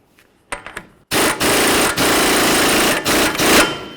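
A power tool runs up on the axle nut of a 2007–2014 Ford Edge during a passenger-side shock replacement: a few short bursts, then a loud, close rattling whir that holds steady with brief pauses before stopping.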